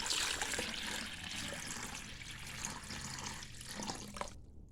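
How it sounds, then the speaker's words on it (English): Water runs into a bowl to wash basil, a continuous hissing, splashing pour heard close and moderately quiet before stopping abruptly at the end. "I just put water here"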